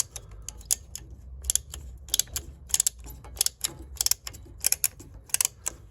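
A ratcheting plumbing pipe cutter works through a pipe, giving a dense run of sharp clicks and ticks in an uneven rhythm, close and fairly quiet, with no talking.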